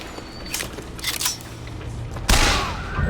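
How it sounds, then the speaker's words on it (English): A few gunshots in the video game Bioshock Infinite: faint, muffled pops early on, then one louder, sharper shot with a lingering ringing tail, no speech. "Well, I finished him off with a shot."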